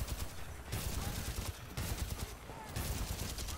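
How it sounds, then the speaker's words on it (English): Rapid bursts of automatic gunfire in the video game Titanfall 2, loud and dense, coming in several sustained volleys separated by brief gaps. "Oh, he's shooting you through that fire."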